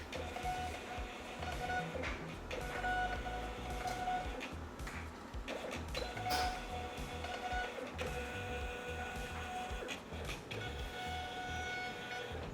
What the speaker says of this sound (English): it basically has a Bluetooth connection to my label printer